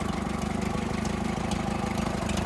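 A freshly rebuilt Massey Harris 444 tractor engine runs steadily at idle, a loud, close, rhythmic low chugging with constant mechanical clatter and no voices over it.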